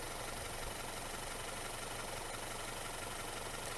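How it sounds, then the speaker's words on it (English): An Audi Q5 with a 2-litre petrol engine ticks over at idle: a steady, even, faint mechanical hum with no rise or change in revs, heard alone with no talking. "is this 2-litre petrol engine,"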